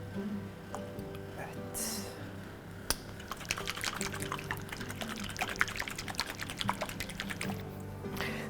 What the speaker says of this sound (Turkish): Onu bu bir parça bu suyundan ekliyorum buna.